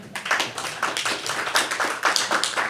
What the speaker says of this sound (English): I would like to give you all a round of applause